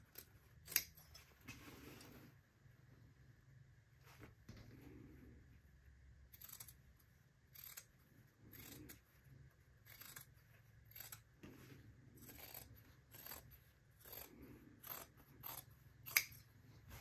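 Scissors trim back the sewn seam allowance of a fabric tote bag with a series of quiet, close, irregular snips and small metallic clicks. No one speaks.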